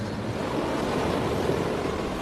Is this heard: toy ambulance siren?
no